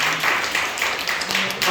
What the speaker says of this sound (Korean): 우리 다현이에게 박수